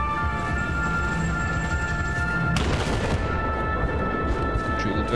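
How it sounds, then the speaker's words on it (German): Gunfire erupts in the Battlefield 4 campaign, a sudden loud burst of shots and booming fire cutting through the steady combat ambience, then trailing off into rumbling background. "Schön, hat wer geschossen."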